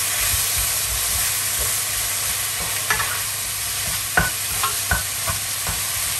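Onions fry in a pan while being stirred and turned, giving a steady close-up sizzle and hiss broken by a few soft scrapes and clinks of the utensil against the pan.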